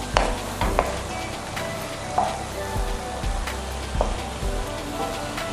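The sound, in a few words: gyoza filling frying and sizzling in a hot pan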